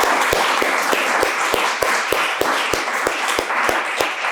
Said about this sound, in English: Please another applause for them.